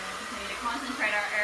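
A hair dryer blows steadily through a large round brush during a salon blow-dry, a continuous close airy whoosh that swells louder toward the end.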